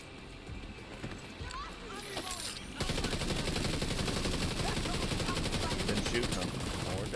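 Weapons fire in the video game The Division 2: after a quieter start with scattered shots, dense automatic gunfire takes over in rapid, sustained bursts that fill the rest of the scene, with voices underneath.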